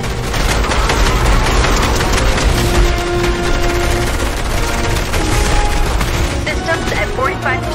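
Dense, loud gunfire from a Fortnite live event, rapid automatic bursts and booms layered over game music and effects, with a voice briefly calling out over the din.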